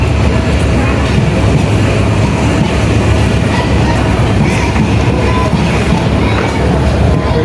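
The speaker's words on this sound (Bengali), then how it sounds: "মাত্র আমাদের ট্রেন আসছে আমরা এখন উঠবো" A train pulls into a station with a loud, continuous rumble and rattle of wagons that fills the whole stretch. Faint voices sit beneath the noise.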